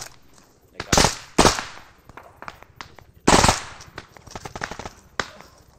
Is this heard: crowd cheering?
no